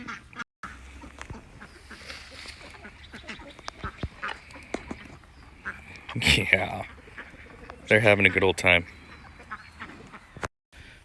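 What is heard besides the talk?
ducks and chickens eating apple branch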